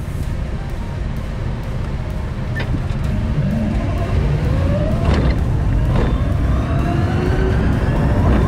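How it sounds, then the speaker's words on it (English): Electric motor whine from an Arcimoto FUV electric vehicle on a city ride, a steady hum under road and wind noise with thin rising and falling tonal sweeps as speed changes. "The electric motors will have that classic whine that sounds like a jet engine"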